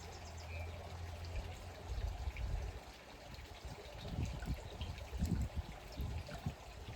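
Liquid chlorine poured into a measuring container up to 1.25 quarts for a pool, a close, gurgling trickle and splash that swells and fades in bursts over several seconds.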